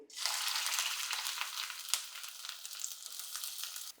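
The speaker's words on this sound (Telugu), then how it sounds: "ఉల్లిపాయలు ఫ్రై అవుతూ ఉంటాయి" Onions frying in oil in a pan for a vegetable masala, a steady bright sizzle that holds constant with small crackling pops throughout, close and fairly loud.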